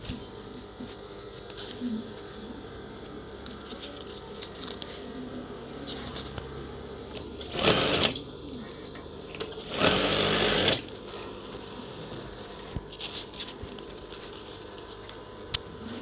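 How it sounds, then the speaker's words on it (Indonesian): Sewing machine stitching curtain fabric, a steady continuous mechanical whir running throughout with a couple of louder bursts partway through, no talking. "Kita jahit lagi ya"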